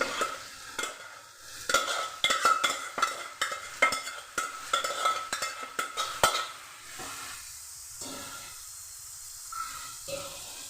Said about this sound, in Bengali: এবার আমি দিয়ে দিচ্ছি সেদ্ধ করা পেঁয়াজ।